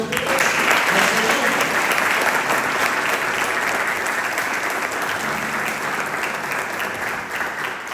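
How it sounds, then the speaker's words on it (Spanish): A church congregation bursts into sustained applause, a dense, loud wash of many hands clapping that holds steady for several seconds and eases slightly near the end, with faint crowd murmur beneath. "Bríndele un fuerte aplauso."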